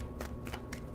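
Tarot cards riffled in two quick shuffles, each a brief crisp papery burst with a short pause between, close and fairly quiet.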